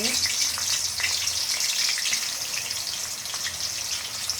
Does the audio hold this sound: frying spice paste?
yes